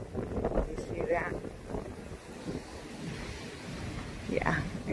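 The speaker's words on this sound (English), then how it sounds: "it's so windy." Strong outdoor wind buffets the microphone in a continuous low roar with gusts, while a person talks over it.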